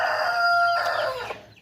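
A white Aseel rooster crows once nearby, a loud drawn-out call that trails off at the end.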